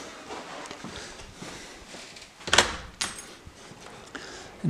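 Patio doors in a house swing open amid room ambience, with a sharp clatter and slide of the frame and handle in the middle, then a few softer knocks and rustles as the way out to the garden clears.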